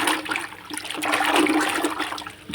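Salt is stirred into water in a bucket, giving a close, continuous swirl and slosh of water that rises and falls throughout.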